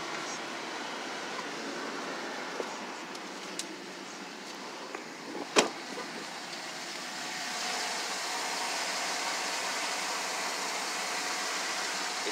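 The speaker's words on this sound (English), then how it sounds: "And it pumps up the tire." Getgo free air pump inflating a car tire, a steady close hissing rush of air with a few small clicks and a sharp knock midway, growing slightly louder toward the end.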